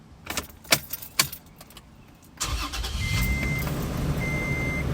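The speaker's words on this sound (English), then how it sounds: "Let's start up the truck." Keys jangle and click a few times before a Toyota Tacoma truck's engine cranks and catches, settling into a loud, steady idle with a faint high whine from the newly replaced blower motor.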